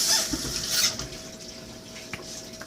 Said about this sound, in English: I found the soap and we're washing our hands